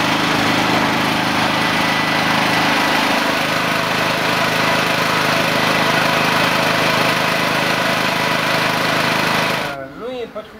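A new gasoline generator with manual and battery electric start runs steadily at close range, a loud, constant engine drone that holds evenly for about ten seconds before cutting out abruptly near the end.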